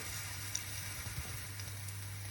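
Potato fries frying in hot fat while being stirred, a continuous soft sizzle and crackle with faint scrapes of stirring over a steady low hum.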